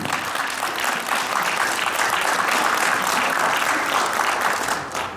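Dense, steady applause from an audience at a children's end-of-year concert, many hands clapping together for the full stretch before it thins slightly at the end.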